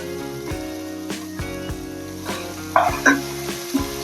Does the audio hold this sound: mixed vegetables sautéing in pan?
yes